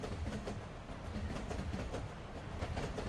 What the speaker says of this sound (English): I'll slow this train down.